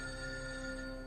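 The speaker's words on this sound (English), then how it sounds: "the phone's ringing again" Short burst of a ringing phone in Lightning Returns: Final Fantasy XIII, a steady electronic bell-like tone with sharp sustained harmonics, clear and alone for about a second.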